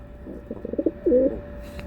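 Pigeons coo close by, giving a quick series of soft throaty pulses followed by a longer rolling coo, all within under two seconds against a quiet background.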